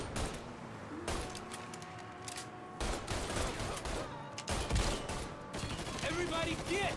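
Gunfire in the video game Mafia III comes as repeated loud bursts and single shots, with a mechanical reload sound and game background noise between them.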